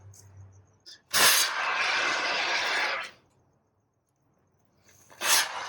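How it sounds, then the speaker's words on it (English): Spray foam insulation hissing out of a can during floor insulation of a school bus conversion, one long close spray burst of about two seconds followed later by a short second spurt, with quiet gaps between. "That sounds like spray foam."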